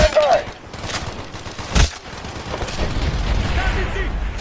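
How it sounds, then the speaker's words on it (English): Gunfire in the Call of Duty Black Ops video game, on a battleground map: bursts of rifle and machine-gun fire with a heavy boom partway through, layered under shouted soldier voices and constant battle noise. "Firing, stand by!"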